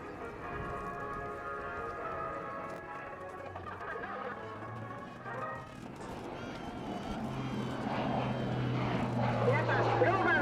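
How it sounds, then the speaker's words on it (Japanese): A JMSDF T-5 propeller trainer flies aerobatic manoeuvres, its engine drone rising and falling in pitch as it turns, heard under steady narration. "荷重がかかっても速度を失うことなく安定して飛べる T5 練習機の機体性能の"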